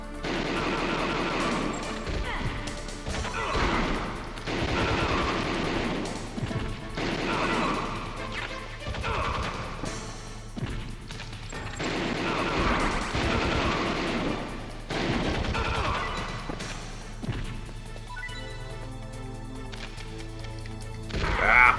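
Video game gunshots ring out in repeated bursts of sharp cracks and crashes over a long stretch, loud and close, with brief pauses between volleys and no talk over them.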